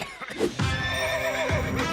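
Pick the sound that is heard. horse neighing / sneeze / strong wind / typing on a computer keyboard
horse neighing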